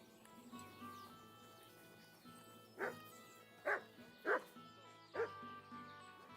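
A dog barks four times in Kingdom Come: Deliverance II, short yips spaced about a second apart, over a soft game soundtrack with a low music drone.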